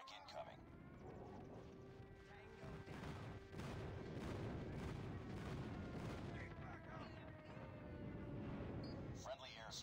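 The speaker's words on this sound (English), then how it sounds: "Friendly airstrike incoming." Airstrike explosions thunder from the Call of Duty Mobile map Hackney Yard in a 10v10 Kill Confirmed match, a run of heavy booms and crackling blasts layered with gunfire, while game voice callouts play over them.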